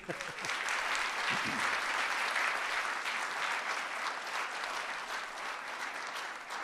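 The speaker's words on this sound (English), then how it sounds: "Give them a round of applause" A steady, sustained round of applause from a crowd at a community awards breakfast, even and full throughout with no break, brief voices faintly audible at the very start.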